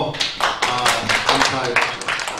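A church congregation at a spiritual seminar claps in a quick, steady rhythm while someone speaks over the applause.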